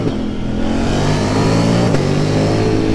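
KTM Duke 890 motorcycle riding on an open road, its engine droning steadily and loud throughout with a brief shift in pitch near the middle, wind rushing over it.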